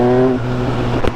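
Pro-Race GP-R3R exhaust on a Triumph Speed Triple 1200 RS motorcycle, a steady close engine drone with a brief louder burst near the end.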